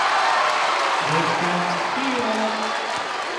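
A high school basketball crowd cheers and applauds for Kickapoo in a gym, a broad sustained roar with a voice calling over it.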